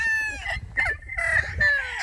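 A farm rooster crows loudly and close, one long harmonic call followed by a second crow, out on a cool mountain farm, with no voices over it.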